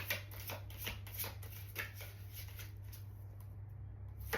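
A deck of round oracle cards is shuffled by hand in a series of quick, close riffling rustles, faint and rhythmic over a low steady hum, with no speech.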